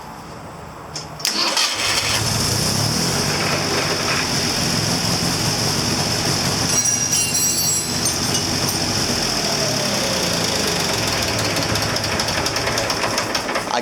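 The engine of a 1967 Ford 2000 tractor cranks and catches after about a second, then runs loud and close with a steady, rapid knocking clatter to the end.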